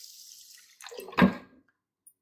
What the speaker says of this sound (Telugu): వాటర్ ఫుల్గా నింపేసుకొని